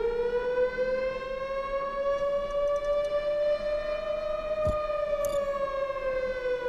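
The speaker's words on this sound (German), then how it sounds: "Ist die Sirene?" A civil defense style siren wails in the Hallways indie horror video game, one long steady rising-and-falling tone with strong harmonics, loud and continuous for the whole stretch with no talk.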